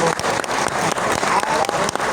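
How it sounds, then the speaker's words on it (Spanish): Theatre audience applauding in a hall, a thick continuous wash of clapping heard up close, with a few voices faintly underneath. "Y un aplauso para el Teatro Doral, que hace estas cosas maravillosas."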